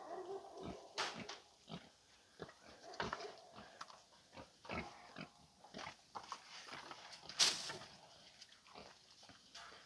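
Pigs grunt and snuffle close by while being fed near a pallet pen, with irregular short bursts of feeding noise and an occasional sharper squeal-like sound.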